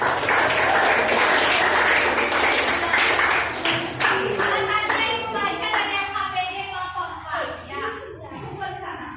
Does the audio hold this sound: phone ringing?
no